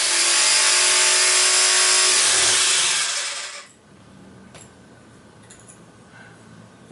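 Wood being sawn through on a guitar headstock gives a loud, dense rasping burst for about three and a half seconds, then stops abruptly, leaving quiet room noise with a couple of faint knocks.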